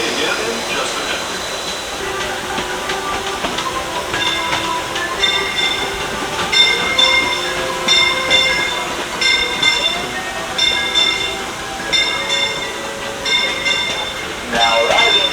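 A Disneyland railroad train on a rainy day rolls into Tomorrowland Station with a steady close rumble, rhythmic clatter and repeated high squealing tones from the wheels.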